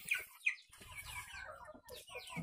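Chickens in a semi-intensive coop fed maggots, with soft clucks and short squawks from nearby hens, quiet and irregular against faint background noise.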